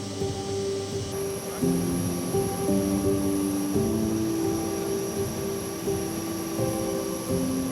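An aircraft carrying new immigrants from Ethiopia after landing, its engines giving a steady, fairly loud drone with a sustained high whine that holds throughout, with no talking.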